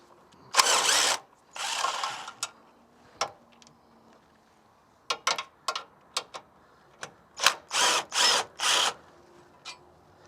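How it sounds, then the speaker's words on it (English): Power tool driving out bolts from a car's sway bar bushing plate: a couple of longer whirring bursts followed by a rapid series of short ratcheting zips, loud and close in a quiet garage. "So we'll start by pulling out the 2 bottom bolts."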